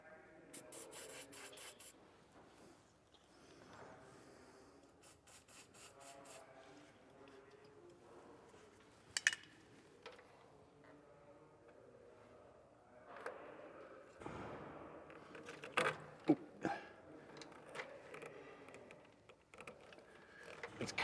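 Air tubing is pushed onto a tight fitting during setup of an Air Lift WirelessONE compressor system on a Ram pickup, heard as faint, close rubbing and squeaking scrapes in short bursts with quiet gaps between them.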